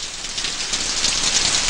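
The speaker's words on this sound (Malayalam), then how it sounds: "നാശം, ഈ മഴയും തോരണില്ലല്ലോ." Heavy rain pours steadily on a surface, a dense, loud, even hiss that runs throughout without any talk.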